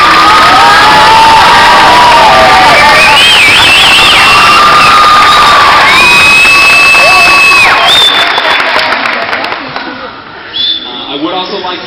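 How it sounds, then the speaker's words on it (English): Loud crowd of children and adults cheering, shouting and whooping for young beginning musicians at a band awards event, a dense continuous roar with high voices and whistles that tapers slightly near the end. "give yourselves a round of applause"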